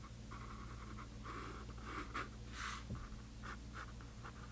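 An eraser rubs out a pencil line on watercolor paper, a close, soft scratchy scrubbing in short repeated strokes over a faint steady hum.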